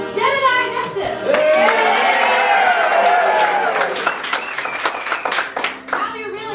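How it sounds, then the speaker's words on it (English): Audience at a stage melodrama clapping and cheering for the hero, a dense, steady wash of applause with whoops and voices that thins into scattered claps near the end. "And clapping and cheering for our hero, Jedediah Justice."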